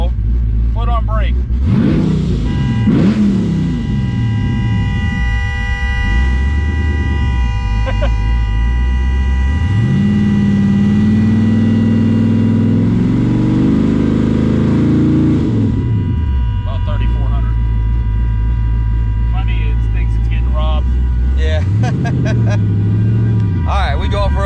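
A car with a newly installed torque converter sits in neutral with the brake held while its engine is revved repeatedly, loud close bursts of rising engine roar separated by idle rumble, with someone talking between revs.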